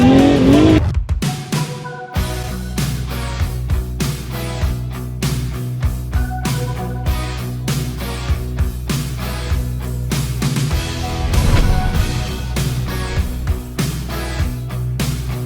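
A race car driving hard with repeated tire squeals and skidding, the engine revving and dropping in bursts, loud and close.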